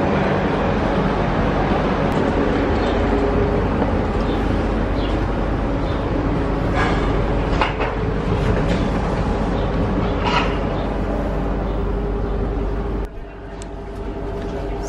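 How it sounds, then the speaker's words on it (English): Inside a passenger train from Venice to Salzburg, a loud, steady rumble fills the carriage with faint clicks and knocks, then drops abruptly near the end. "This is our train."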